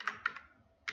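Computer keyboard keys tapped while entering an Excel formula: three or four close, crisp clicks in an uneven rhythm over near silence.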